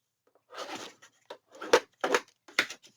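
Scissors snip through paper to miter the corners of a Winnie the Pooh scrapbook album page, a handful of short, crisp cutting bursts spaced unevenly over a quiet background.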